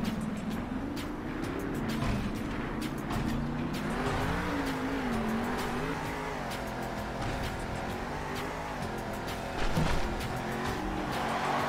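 Monster truck engine roaring in the Monster Jam Steel Titans video game, a continuous loud revving drone that rises and falls, with scattered clicks and impacts and a brief burst near the end.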